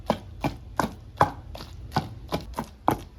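Raw ivy gourd and green chillies crushed into chutney with steady, rhythmic pounding, about nine dull thuds spaced roughly evenly, close up and alone without any voices.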